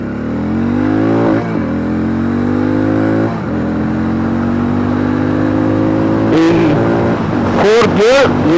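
Hero Mavrick 440 motorcycle pulling hard through the gears, the loud, close engine note climbing and dropping at each shift, with wind rush and a voice briefly over it toward the end.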